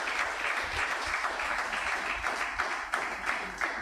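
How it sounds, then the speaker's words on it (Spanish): A church congregation applauds in a steady, dense wash of clapping that continues throughout at an even, fairly loud level, with a few sharper claps standing out near the end. "Dele fuerte el aplauso al Señor"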